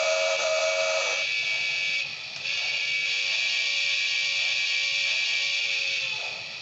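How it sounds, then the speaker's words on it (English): A Lionel Polar Express toy train set's steam whistle blows steady and shrill for several seconds, close and loud, with a brief dip partway through before it tails off. "And now the whistle's going to be a lot different."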